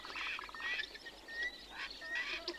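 A red-billed teal and her brood of ducklings at an Etosha waterhole give faint, quick high chirps and peeps in scattered bursts over a quiet outdoor background.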